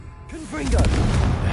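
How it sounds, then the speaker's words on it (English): A Confringo blasting curse goes off in Hogwarts Legacy, a short whooshing burst that swells into a loud, booming blast and holds for about a second. "Confringo."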